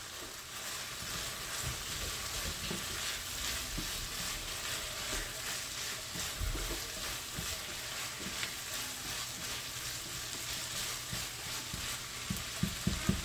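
Frozen corn fries in a pan for a home-cooked keema, giving a steady, even sizzle close by. A few light clicks and taps from the pan come near the end, with no speech.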